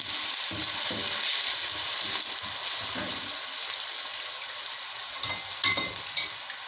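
Onions and peppers frying in a pan, a steady close sizzle with occasional stirring scrapes, alone without talk.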